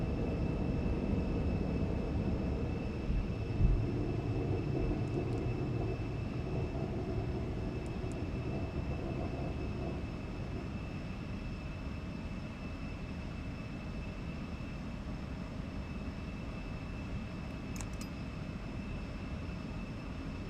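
Embraer E175 jet engines roaring during a takeoff roll in the X-Plane 12 flight simulator, a steady low rumble with a thin constant whine throughout.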